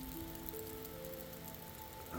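Steady rain falls outdoors by a lake on a moist morning, a dense even hiss of drops close by with faint tonal hum underneath and a slight swell at the end.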